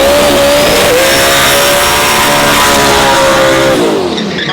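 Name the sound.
Big Bad Brown pickup truck engine revving at drag race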